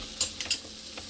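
Food frying and caramelizing in a pan gives a soft steady sizzle, with a few brief clinks of stirring or utensils against the pan, close and fairly quiet.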